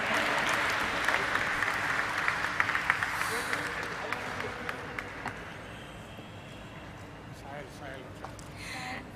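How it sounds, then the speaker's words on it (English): Audience applause fills a listing ceremony hall, dense clapping loud at first and gradually thinning and fading toward the end, with faint voices underneath. "Let us have a resounding of claps to celebrate this moment."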